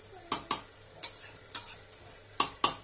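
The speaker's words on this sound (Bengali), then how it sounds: "আচ্ছা এবার আমরা ভালো করে ওই বয়েল করা মটরটার সঙ্গে আলুটাকে মশলাগুলোর সঙ্গে মিক্স করে নেব ভালো করে।" A spoon clacks and scrapes against a cooking pot while boiled peas and potatoes are mixed with spices for Bengali ghugni, about six sharp, close strokes in an uneven rhythm with quiet gaps between.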